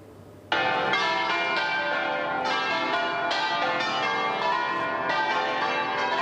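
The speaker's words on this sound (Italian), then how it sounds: "Le campane a festa accolgono il feretro davanti alla chiesa parrocchiale." Church bells peal festively outside a parish church in Tezze as a funeral coffin arrives, loud overlapping strikes in a steady rhythm that begin abruptly and ring on with no talk.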